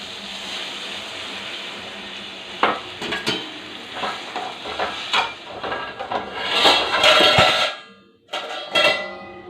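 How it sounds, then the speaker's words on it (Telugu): Tamarind juice poured into hot oil in an egg curry gives a loud, rushing sizzle with stirring scrapes, swelling near the end and then cutting off briefly before resuming. "ఇదిగండి చింతపండు పులుసు,"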